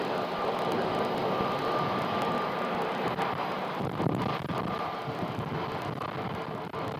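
A jet airliner takes off from runway 7 left at Phoenix Sky Harbor, its engines a broad, sustained roar that holds steady at a distance, with some wind buffeting the microphone.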